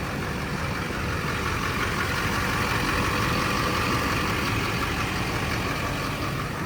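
A Chevrolet Silverado 2500HD pickup with a Duramax LLY diesel and upgraded aftermarket exhaust idles steadily, giving a continuous low rumble with broad exhaust hiss that stays even throughout, with no voices.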